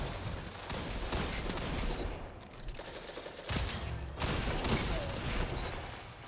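Raid slug shotgun firing in a video game, several loud, sharp shots at irregular intervals with mechanical pump and reload clatter between them, amid dense battle noise.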